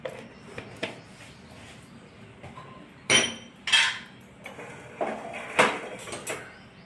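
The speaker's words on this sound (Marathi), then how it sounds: "सगळे पदार्थ अगदी व्यवस्थित कालून घेणे" A bowl of thalipeeth batter made with hurda, red chilli, salt, onion and mint being mixed by hand, giving sparse, close clinks and taps against the bowl over a quiet background.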